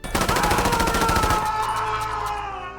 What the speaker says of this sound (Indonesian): melepaskan tembakan ke segala arah sampai akhirnya kehabisan peluru